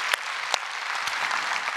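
A Korean church congregation applauding during a 39th-anniversary revival service: steady, dense clapping from many hands, fairly loud and close, with a couple of sharper individual claps standing out early on.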